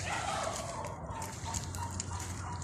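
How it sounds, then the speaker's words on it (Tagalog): Chickens cluck faintly nearby, soft scattered calls from several birds over a low background murmur. "Ito lang yung mga natira sa mga manok."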